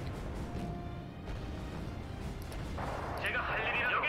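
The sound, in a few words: tank gunfire in Wargame: Red Dragon video game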